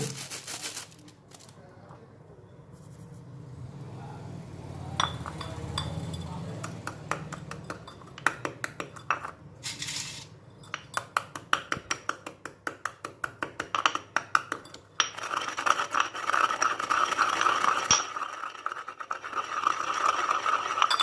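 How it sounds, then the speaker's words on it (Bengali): Hard copper sulfate crystals being ground into fine powder by hand, giving repeated scraping, clinking and gritty crunching strokes, close and fairly loud, with a voice speaking in the background. "এবার এই তুঁতের টুকরোগুলিকে মিহি করে গুঁড়ো করে পাউডার বানিয়ে নেব"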